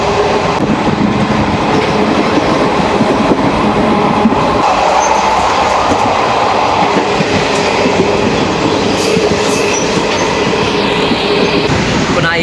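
A Trichy to Tambaram Special Express train runs non-stop at high speed, giving a loud, steady rolling rumble with continuous wheel clatter and rattling that carries through the whole stretch, heard from onboard with no talking.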